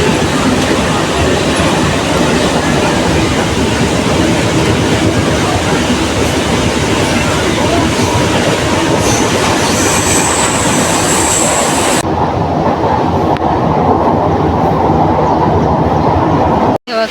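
A Mumbai-area local train bound for Thane runs along the tracks near Khadavli, giving a loud, steady broadband rumble with wheel clatter from inside the carriage for most of its length before cutting off abruptly.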